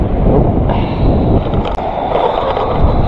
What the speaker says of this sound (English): it's definitely windy today. A lot more wind than yesterday.